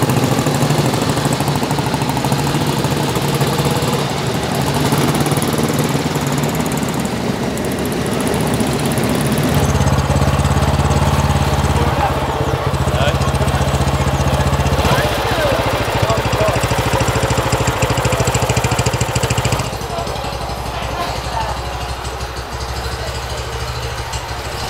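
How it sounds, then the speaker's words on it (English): Loud, rumbling motorbike engines idle and rev nearby at an outdoor rural life living museum event, the drone shifting in pitch and intensity, with faint talk underneath. "very loud with the motorbikes"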